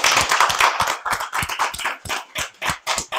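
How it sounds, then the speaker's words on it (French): Loud, close applause from a small audience at a show taping, many hands clapping in quick, uneven bursts that gradually thin into a looser, separated rhythm. "je veux un tonnerre d'applaudissements, s'il vous plaît"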